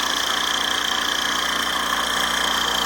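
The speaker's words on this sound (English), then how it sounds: "let's turn this smog pump on and get a pressure test on it" A Ferrari Testarossa smog air pump runs steadily with its clutch engaged, giving a continuous whirring, hissing mechanical drone at constant loudness with no talk.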